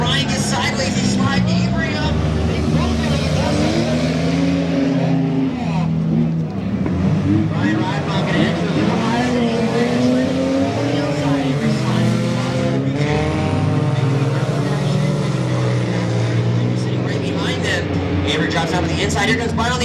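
Race cars in an enduro at Goods Raceway run side by side on an oval track, engines droning and shifting pitch together in a sustained roar, with an announcer talking over the racing throughout.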